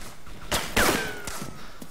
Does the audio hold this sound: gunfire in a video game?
yes